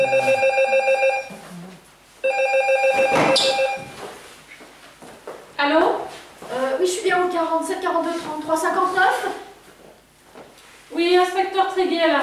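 A telephone bell rings in short repeated bursts in an indoor scene, loud and close, with people talking in French between and after the rings.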